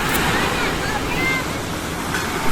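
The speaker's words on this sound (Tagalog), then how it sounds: "ganda maglakad sa tabi ng dagat habang pinapakinggan mo ang hambalos ng mga alon" Waves surging and washing onto the shore at Sualig Bay in Cauayan, a steady broad wash of surf with some wind on the microphone, continuous and fairly loud.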